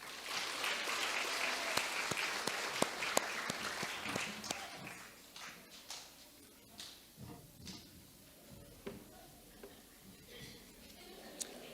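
Applause from an audience at an elementary school awards ceremony, loud steady clapping at first that thins out and fades to scattered claps over about twelve seconds, with faint talk beneath.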